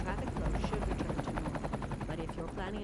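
A helicopter in the city-builder game Cities: Skylines II, its rotor thumping in a steady rapid pulse, loud and close throughout.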